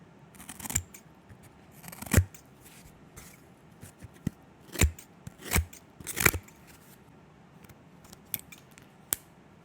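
Klein 2100-7 electrician scissors snip right at the microphone, a handful of sharp, crisp cuts spaced irregularly over near-silence, with no speech.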